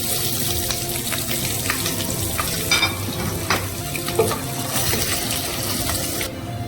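Garlic, ginger and green chillies fry in hot oil after mustard seeds for a lemon pickle, making a steady close sizzle with the scrape and clatter of stirring, and no voices.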